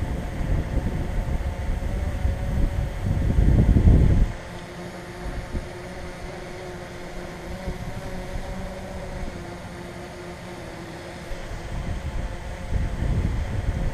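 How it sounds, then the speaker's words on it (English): Gusty wind buffets the microphone in low rumbling bursts, with the steady mechanical hum of a DJI Mavic 2 Pro drone beneath and calmer stretches between gusts. "it is pretty windy out"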